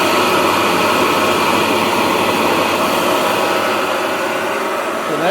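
A vintage Hoover bag cleaner in a vacuum repair shop runs with a steady, loud, dense motor roar and airy rush that holds constant throughout, with no voice over it.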